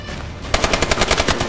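Automatic fire from an ASM1 submachine gun in Call of Duty: Advanced Warfare: a rapid, even burst of about a dozen sharp shots that starts abruptly and keeps going, loud and close, with no voices over it.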